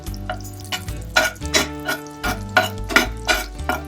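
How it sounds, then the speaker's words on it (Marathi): Finely chopped garlic sautéing in melted butter for a drumstick soup, with a low sizzle under repeated close metallic scrapes and taps of a spoon against the pan, rhythmic and fairly loud, no voices. "लसूण थोडासा परतायचा, जास्त नाही परतायचा."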